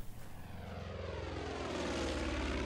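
A propeller airplane flies over in the video game Far Cry 5, a steady, loud engine drone that builds gradually and holds close throughout with no voices.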